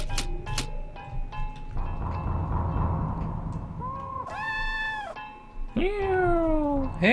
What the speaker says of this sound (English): I'm pretty sure that meowing is not just random